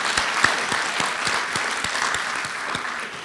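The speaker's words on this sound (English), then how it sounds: "let's applaud them." An audience at a book talk claps steadily, with dense, even applause from a crowd that holds at a constant level and fades slightly toward the end.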